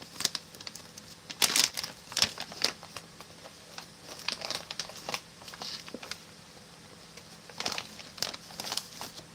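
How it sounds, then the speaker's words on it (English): The plastic zipper seal of a Canadian military ration bag is handled up close, giving irregular crinkles, clicks and rustles in short bursts across a quiet background. "And then you have a zipper seal,"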